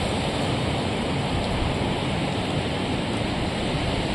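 Black Sea surf washing onto a stony shore near Luzanivka in Odesa on a winter day, a steady, unbroken roar of breaking water that stays loud throughout with no voices.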